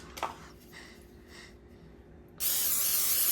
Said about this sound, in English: you spray the top of this